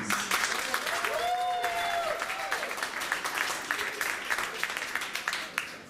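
Loud audience applause from a crowd at a live comedy show, dense clapping that fills the whole stretch without a break, with a brief voice or cheer rising above it early on.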